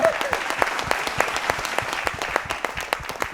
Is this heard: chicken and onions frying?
no